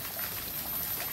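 Water splashing steadily into an outdoor fountain with a bird sculpture at a bird park in Bali, Indonesia, a soft continuous wash of spray with no voices.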